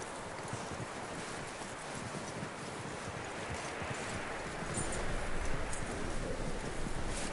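Steady clip-clop of a horse's hooves in Red Dead Redemption 2, a continuous rhythmic trot over rustling wind-like ambience, moderately close and growing slightly louder toward the end.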